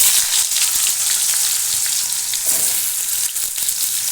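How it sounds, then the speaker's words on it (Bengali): Potatoes frying in hot oil after a tempering of cumin, bay leaf and dried chilli, a loud, steady, dense sizzle right up close with faint stirring knocks, no talking. "আলুগুলো ভেজে নেব।"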